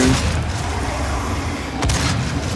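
Rapid video game gunfire streamed on Stadia on an Android phone, a dense, sustained burst of loud shots with booming low end and a sharper crack near the end.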